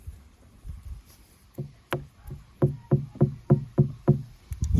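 Knocking on a Yummy watermelon with a slightly cracked rind: a series of hollow, resonant knocks, a few scattered early, then a steady run of about eight evenly spaced thumps, close and fairly loud, with no talk.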